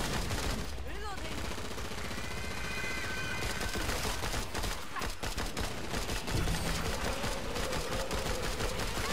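Rapid gunfire and weapon bursts in the co-op shooter Killing Floor, a constant chaotic barrage of shots with game effects throughout, and players talking over it.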